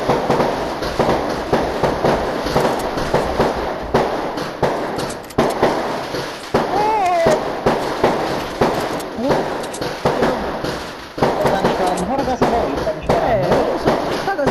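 Fireworks being set off right outside a house, with repeated sharp bangs and crackling bursts arriving irregularly throughout, loud and close, with people's voices mixed in.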